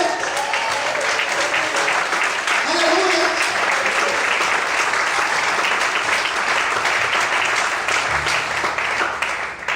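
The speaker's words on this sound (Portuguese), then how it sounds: "dá glória a Deus bem alto e aplauda o Senhor nessa noite" Church congregation applauding loudly and continuously through a night worship service, dense steady clapping filling the room, with a voice calling out in praise over it.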